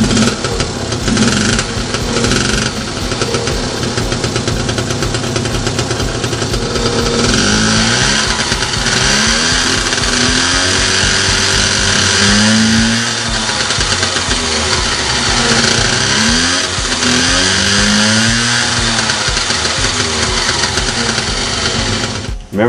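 Honda Express NC50 moped engine fitted with a stock modified muffler, revving loudly and steadily for a long stretch with rising and falling pitch sweeps, close by, no talking.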